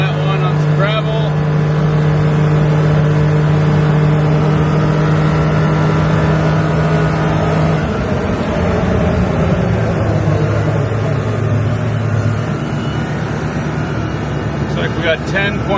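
Ranger 1500 accelerates hard from a standstill on gravel in a timed run, its engine droning loud and close and rising through gear changes, with a voice briefly heard over it.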